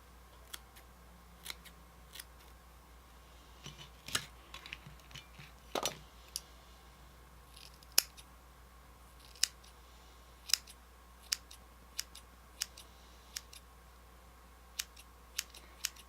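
Scissors snipping through synthetic wig hair for a Prompto cosplay wig, a run of short crisp clicks spaced irregularly, close and fairly quiet with no talking.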